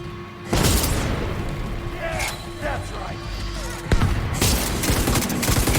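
Slow, widely spaced gunshots from The Division 2 land as heavy booming cracks a few seconds apart, with a player talking throughout.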